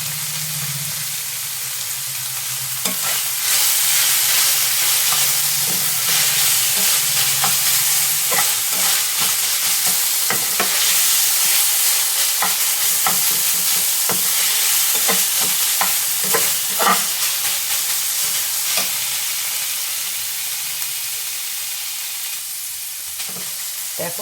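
Food cooking in a pan with tomato sauce, a steady loud sizzle with frequent scraping stir strokes and clinks of the spatula against the pan, continuous throughout with no talking.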